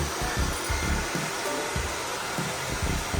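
A hair dryer blows hot air while hair is dried after a wash during a rebonding and smoothening treatment, a steady loud whooshing roar that runs without a break.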